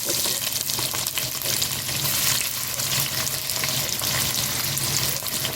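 Loud, continuous sizzling and crackling of sliced onions frying in hot oil, steady and close throughout with no voices.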